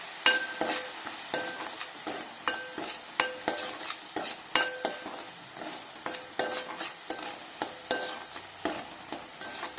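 Oil with salt sizzles steadily in a wide pan for fish pulusu while a spoon stirs and scrapes in a regular rhythm, giving repeated close clinks over the constant hiss.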